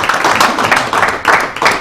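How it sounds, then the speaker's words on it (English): Workshop audience for a producers' event claps in uneven bursts, a short, fairly loud round of applause lasting under two seconds with no voices on top. "Round of applause."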